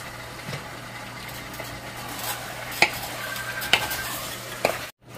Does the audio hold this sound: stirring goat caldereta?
yes